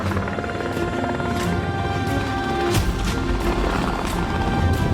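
A helicopter approaches to land on the roof of a Skoda Yeti, its loud, close rotor thudding steadily and growing slightly heavier as it nears.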